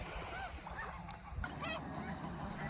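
Snow geese at Iona give several faint, scattered honking calls over a low wash of water and background noise, heard at some distance.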